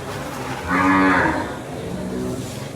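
A Guzerat cow moos once, a single long, loud low call in the middle, at a championship for female cattle, with faint crowd murmur around it.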